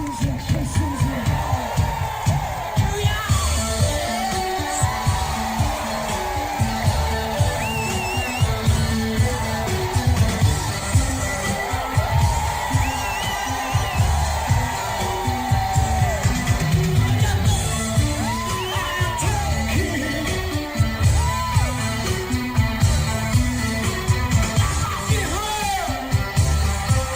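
Concert crowd at a show roaring, cheering and yelling continuously, loud and close, with whoops and shouts rising over a dense wall of noise and music underneath.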